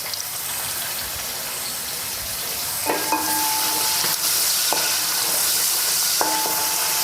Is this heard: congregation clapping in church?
no